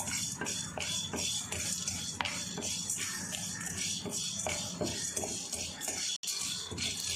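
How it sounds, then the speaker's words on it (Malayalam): Prawn biryani masala stirred and fried in a pan, with continuous scraping and clinking of a metal spoon against the pan over a soft sizzle, close and steady. "നമുക്കിത് മിക്സ് ചെയ്ത് കൊടുക്കാം നന്നായി. നമ്മളിപ്പോൾ ഒരുമിച്ച് ചേർത്ത് വറുത്തെടുക്കുകയാണ്."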